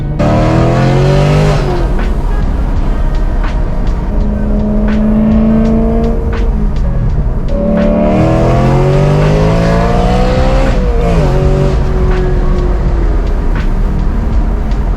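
A supercharged BMW M3 revs hard under acceleration, its loud close engine sweeping upward through several gears with short breaks at each shift and a sharp whine layered over the roar.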